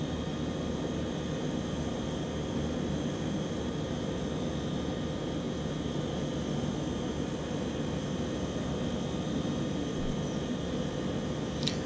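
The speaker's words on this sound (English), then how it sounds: "I'm flying a Hawker Siddeley 748." Hawker Siddeley 748 turboprop airliner in a flight simulator game: a steady, continuous engine drone and cabin hum sits at an even level for the whole stretch, with no voices.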